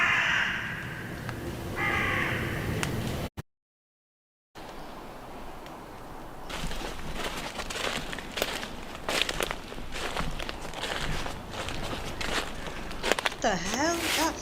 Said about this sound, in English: That's a crow.